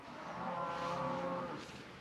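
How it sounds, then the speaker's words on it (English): Cows mooing near a wild camp in the Peak District: one long, loud drawn-out moo swells and fades, with quieter lowing and outdoor ambience around it. "Well, apart from the bovine chorus"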